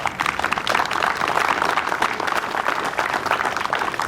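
Crowd at a charity fundraiser opening ceremony applauding team captains, a full, loud wash of clapping sustained for several seconds with scattered sharper claps standing out near the front.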